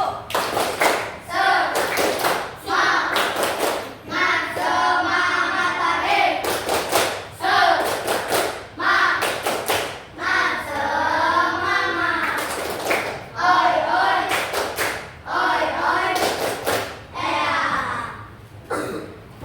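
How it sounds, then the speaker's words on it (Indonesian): A classroom of children performs the rhythmic "tepuk semangat" clap chant, bursts of sharp hand claps in patterned groups mixed with children's chanting voices, loud and close throughout. "Tepuk semangat 1."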